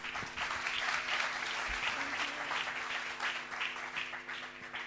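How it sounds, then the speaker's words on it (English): Loud, continuous applause from an audience fills the whole stretch, with a faint musical hum underneath. "Big applause to Miriam Toukan."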